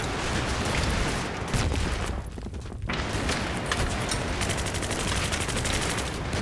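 Rapid bursts of gunfire crackle continuously in the video game Battlefield 3, dense automatic shooting with a brief lull partway through, no voices.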